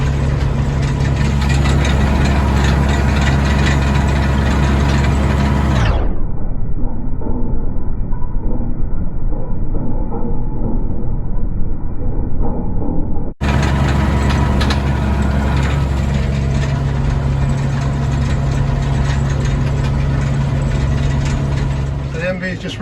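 A tractor with a round baler hitched on the back runs steadily for hay making, a loud, close mechanical drone with rattling, ratchet-like machinery that carries on throughout, muffled for a stretch partway through.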